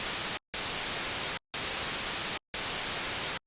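Binary white noise played as a demonstration: four loud, steady bursts of broadband hiss, each about a second long and separated by short silent gaps, with no voice.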